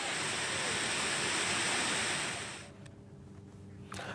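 A rushing waterfall in Madhya Pradesh during the monsoon floods, tourists gathered nearby, a dense, steady roar of falling water that drops away abruptly partway through, leaving quieter background sound.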